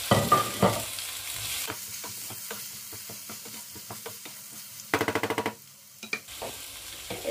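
Chopped tomatoes sizzle and crackle in hot oil while a utensil stirs and scrapes the pan, with a few louder clanks partway through.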